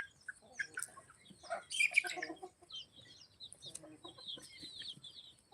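Free-range village chickens on a farm cluck and chirp in scattered, faint bursts, a few louder calls overlapping near the middle against a quiet background.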